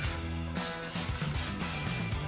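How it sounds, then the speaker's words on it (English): Short repeated bursts of olive oil cooking spray coat a waffle iron, about six quick hissing pumps in a steady rhythm, close and fairly loud with no talking. "you'll get your olive oil spray or coconut oil spray"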